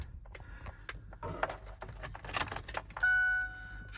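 Keys jangle close by, then a 2010 Ford F-350 diesel welding utility truck with a Miller Air Pak cranks and fires, its engine settling into a steady rumble.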